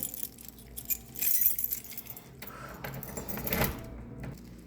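Keys jangling in brief metallic bursts, with clinking peaks near the start and again toward the end over a low background hum; no one speaks.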